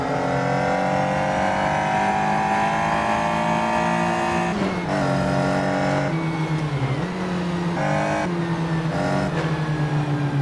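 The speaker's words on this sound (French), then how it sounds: "La Caterham est une voiture" A Caterham race car howls around a circuit, its engine note rising steadily through the gears, then dipping and climbing again with quick shifts, loud and close throughout with no talking.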